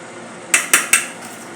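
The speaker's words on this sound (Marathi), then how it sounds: "अशा प्रकारे मी मिक्स करत आहे." Spice masala being stirred in a pot, heard as three sharp metallic clinks of a utensil against the pot in quick succession, close and clear, with no talk.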